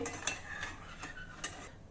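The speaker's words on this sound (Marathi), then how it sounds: "फक्त पाण्यामध्ये आपल्याला हा गूळ विरघळवून घ्यायचा आहे" Jaggery being stirred into water to dissolve it, a spoon scraping and clinking against the pan in a few separate strokes, fairly faint and close, with no talking.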